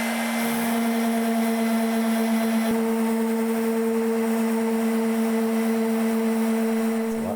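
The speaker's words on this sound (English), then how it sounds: "so I'm going to use a power sander" A power sander runs steadily and loudly throughout, smoothing a repair on a cracked plastic wheelbarrow, with a constant droning hum and no talk.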